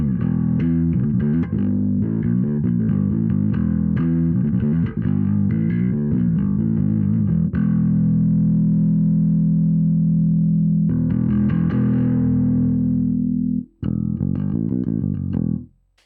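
An instrument played through a Darkglass Infinity Combo 500 digital amp, distorted, effected tones with sustained low notes and busy passages, loud and alone, with a short cut near the end.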